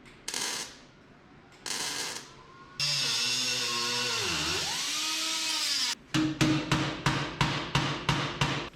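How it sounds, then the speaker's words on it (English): Bodywork on a 1930 Ford Model A trans tunnel: a whirring power-tool burst that dips in pitch, then a quick run of sharp, evenly spaced hammer-on-dolly taps against sheet metal, close and loud. "put the dolly behind it, hammer it"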